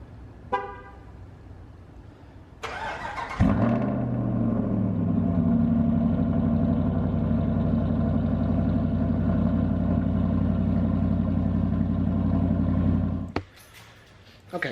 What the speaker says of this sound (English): let's get a cold start, see how she sounds